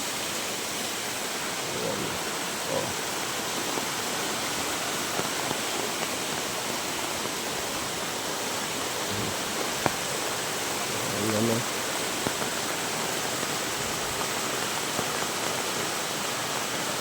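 A swift river rushes steadily beneath a swaying bridge, a dense, continuous broadband roar close by, with a man's brief remarks over it.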